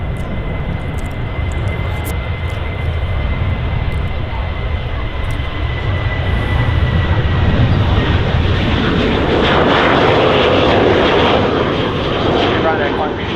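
A Ryanair Boeing 737 departing Manchester Airport roars steadily, loud and broadband, swelling toward the end as the jet climbs out bound for Copenhagen, with faint talk beneath.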